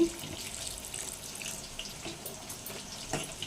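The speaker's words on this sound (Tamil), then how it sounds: "இப்போ கொஞ்சம் தண்ணி ஆட் பண்ணிக்கலாம்." A faint, steady trickle of water pours and splashes softly into a pot of chicken gravy, quiet and close, with no talking.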